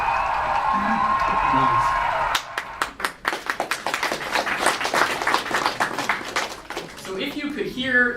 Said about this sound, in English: you have like thousands of people cheering at your robot or cheering against a robot